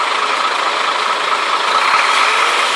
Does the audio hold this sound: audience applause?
no